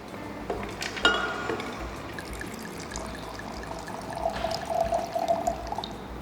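A 2018 vintage wine is poured into a glass in a steady liquid trickle, with a small clink of glass near the start and a fuller gurgle as the glass fills, close by and with no talk.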